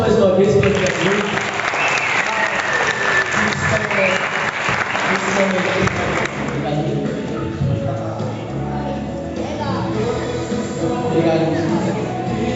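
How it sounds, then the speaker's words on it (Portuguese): A youth church congregation applauds in sustained, dense clapping that fills the room for the whole stretch, with voices mixed into the crowd noise. "Pessoal, vamos aplaudir mais uma vez para Jesus"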